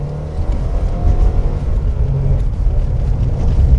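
Stock VA Subaru WRX powering out of a corner after heel-toe braking, a loud, close, steady engine rumble building under acceleration with no talk over it.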